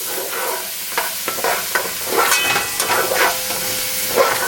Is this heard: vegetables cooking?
yes